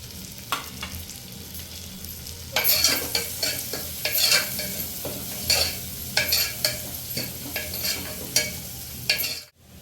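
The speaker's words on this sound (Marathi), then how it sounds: "लसूण नंतर आपण कांदा टाकून घेणार आहोत आणि सोबतच ही एक हिरवी मिरची सुद्धा टाकणार आहोत" Onion and green chili fry with garlic in a hot pan, a steady sizzle broken by repeated scraping stirs of a spoon, close and clear, with no talking.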